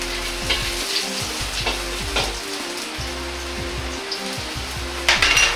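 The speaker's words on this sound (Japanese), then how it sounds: "鍋に油を少量入れ、生姜とネギを炒めます。" Ginger and green onion stir-frying in a little oil in a pot, a close crackling sizzle with stirring and some pan clatter, louder scraping near the end; no speech.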